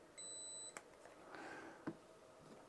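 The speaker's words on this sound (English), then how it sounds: "hold the button down till it beeps" A URANHUB G30 beginner drone's controller gives one short high electronic beep, faint and close, followed by soft handling clicks.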